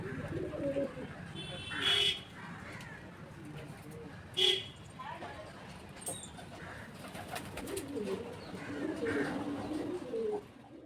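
Pigeons that have been let out to perch on a rooftop give a few soft coos and short calls, with a couple of brief louder bursts. A quiet outdoor background runs under them.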